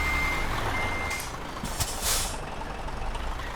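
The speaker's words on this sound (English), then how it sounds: "Listen to those sounds, they're perfect, aren't they? The air brakes" A heavy truck in Euro Truck Simulator 2 idles while a reversing beep sounds, then short bursts of air brakes hiss out, fairly quiet and steady.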